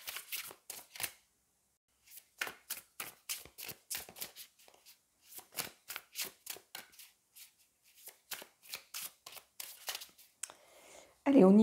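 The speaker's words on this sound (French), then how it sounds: "prendre 3 cartes de tarot." Tarot cards being shuffled in repeated quick bursts of crisp riffling, with short pauses between runs, close and fairly quiet, ending in a brief louder thump.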